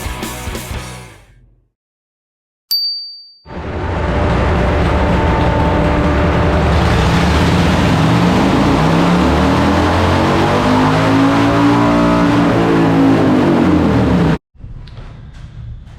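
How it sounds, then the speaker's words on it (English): A 2007 Harley-Davidson Heritage Softail on a dyno revs hard in a sustained pull, its loud engine roar climbing and holding for about ten seconds before cutting off abruptly. "I'm going to do another pre-run so you guys can see what's going on"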